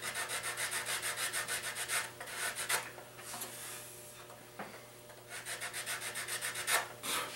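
A sanding block is rubbed back and forth over the wood of a guitar's kerfed lining in a repair, a series of close, rhythmic rasping strokes with a short pause midway.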